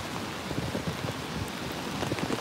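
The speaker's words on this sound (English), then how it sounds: "the rain's coming down more." Rain coming down on a New York City street during Tropical Storm Fay, a dense steady patter and hiss with scattered louder drops, close and continuous, no speech.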